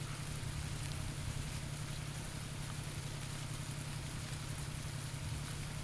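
Steady rain in the video game PUBG on Xbox One S hisses evenly with a low constant hum underneath, continuous and unchanging, no voices.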